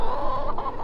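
A backyard chicken clucks close by in a short, loud burst of repeated clucks, with no talk over it.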